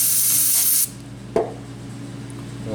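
Brake cleaner or compressed air sprayed onto diesel fuel injector parts from a Mercedes 300SD makes a loud, close hiss lasting under a second, followed by a single sharp click against quiet room tone.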